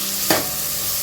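A whole onion dropped into hot oil for chicken biryani gives one brief burst of sizzling over a steady background frying hiss, close and fairly quiet, with no talking.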